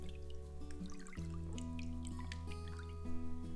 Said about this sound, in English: I add a handful of the pulp to a container of water and make sure to mix this well.